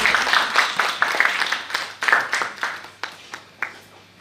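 A modest audience claps to welcome guest speaker Rashid Kidwai at a Jaipur tête-à-tea event, with scattered, uneven individual claps rather than a dense ovation, fairly close.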